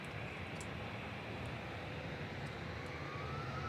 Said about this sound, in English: EasyJet to Basel going now.